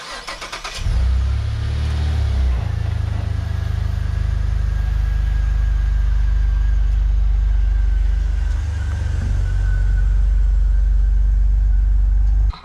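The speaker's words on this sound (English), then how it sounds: "So I'm going to bring the car outside." A Saab 9-3 engine starts up after a brief crank and settles into a loud, steady idle close by as the car rolls out of a garage, with a slight dip and rise in the rumble midway.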